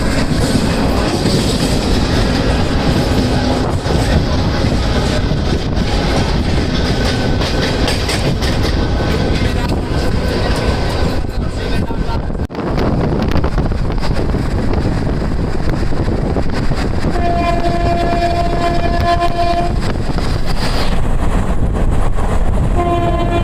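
The Goa Express passenger train running on rails near Rani Kamalapati station, a loud, constant roar with wind buffeting and clattering wheels, plus a sustained horn blast near the end.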